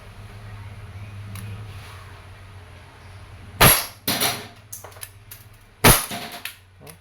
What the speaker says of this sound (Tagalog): Okay, firing. Steel ball po yun.